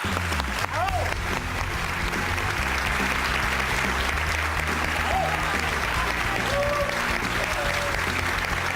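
Studio audience on a Spanish TV talk show applauds steadily and loudly to welcome an arriving guest, a dense sustained clapping with music or background tones underneath for nearly nine seconds.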